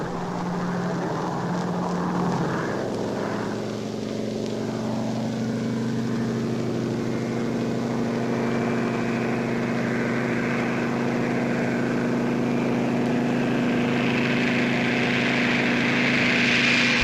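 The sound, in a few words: B-17 and C-54 aircraft towing gliders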